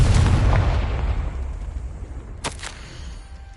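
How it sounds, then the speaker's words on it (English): A Confringo blasting spell going off in Hogwarts Legacy, a heavy booming burst up front that rumbles and fades, followed by a short crackling flare of debris. "Confringo!"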